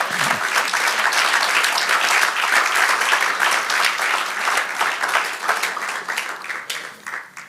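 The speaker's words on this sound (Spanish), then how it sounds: "Aleluya, dale el aplauso." Church congregation breaks into loud, sustained applause during a Spanish-language sermon, dense clapping filling the space and gradually thinning out toward the end.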